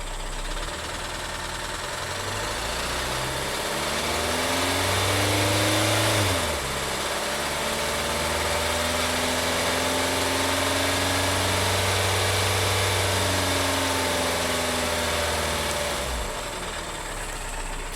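VW Tiguan engine running with the drive belt slipping on an oily alternator, a steady idle hum with rising and falling tonal whine that swells midway and drops off near the end; no talking.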